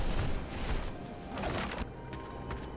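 Cannon fire in the video game Skylanders Giants, a rumbling barrage of booms and crashing impacts, fairly loud and continuous, with sharper bursts standing out toward the middle.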